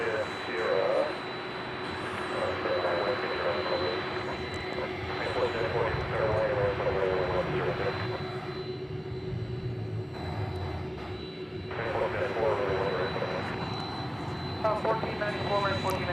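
Jet airliner approaching runway 18 right at DFW Airport, a distant steady engine roar with a whining tone that holds throughout, while someone talks over it and the sound swells and dips slightly.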